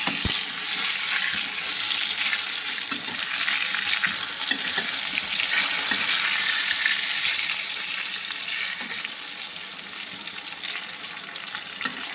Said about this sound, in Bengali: আমি এবার বেগুনগুলো আগে একে দিয়ে ভেজে নেব।